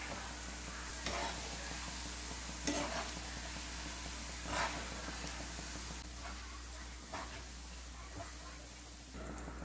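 Soya chunks fry in hot oil with a steady broadband sizzle, while occasional scrapes and stirs of a spoon break through it at close range. A low hum runs underneath throughout.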